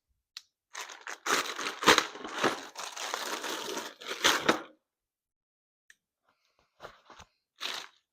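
Sealed plastic bags holding a replacement window regulator for a 2006 Chevy Silverado crinkle and crunch while being handled, with a busy stretch of rustling followed by a pause and a few short, sharp crackles near the mic.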